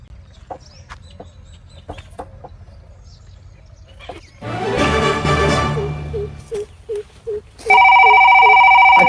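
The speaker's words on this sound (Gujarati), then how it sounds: "કાકો ફોન આવ્યો પાછો" A telephone rings with a loud, bright electronic trill near the end, following a rooster crowing and hens clucking in a rural yard.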